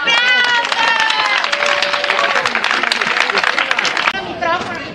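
Theatre audience at a Pro Loco end-of-course acting performance in Ottone breaks into loud, sustained applause with shouts mixed in, the clapping filling the room before thinning out near the end.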